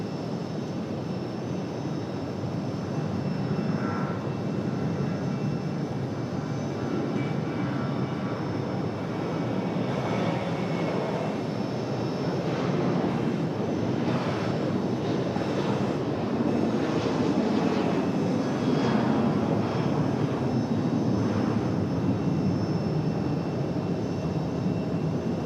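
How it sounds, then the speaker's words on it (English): A United Airlines jet airliner departs for Newark, New Jersey, its engines a steady, moderately distant broadband roar that swells gradually over the span, with no talk over it. "United off to Newark, New Jersey. That one we're staring at right now."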